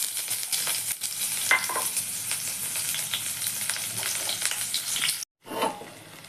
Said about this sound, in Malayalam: നമുക്കിനി അതിലേക്ക് ചുമന്നുള്ളി വരാം